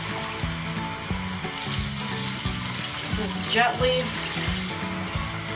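Water poured from a cup over a hairless skinny pig's back to rinse off soap, a soft splashing trickle close by under a running tap and background music, with a brief quiet voice.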